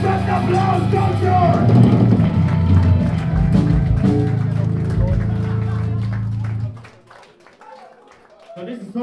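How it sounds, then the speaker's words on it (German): An audience at a live rock concert in Arnstadt claps and cheers loudly for several seconds, and the applause then cuts off into near quiet. "Macht mal einen richtig fetten Applaus, Dankeschön!"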